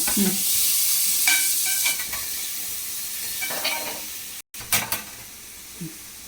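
Tomatoes hit a hot pan of pasta sauce base and fry with a steady, close sizzle, broken by stirring scrapes and a brief silent gap before the hiss resumes.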